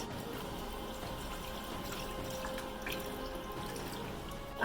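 Steady running water splashing over a Remy human hairpiece in a sink, with soft drips and trickling continuing evenly throughout.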